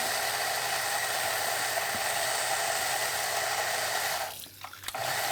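Coffee grinder grinding beans with a large grinding chamber, a loud steady whirring drone that holds for several seconds, then drops and sputters briefly near the end as the flow is choked.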